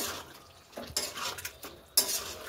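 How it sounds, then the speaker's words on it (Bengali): A spoon stirs a dish in a pan after ghee and chopped coriander go in, giving a few soft scraping clinks of utensil against cookware, quiet and close, with no talk. "দেবো বেশ কিছুটা ধনেপাতা কুচোনো, নাড়িয়ে নেব।"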